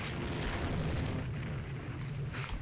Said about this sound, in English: Hit with torpedoes.